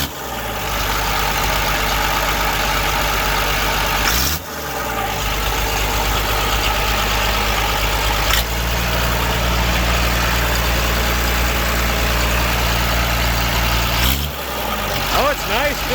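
A car engine idles steadily with a deep, constant rumble after throttle linkage has been fitted during an R134 air-conditioning conversion, with brief interruptions and people talking nearby.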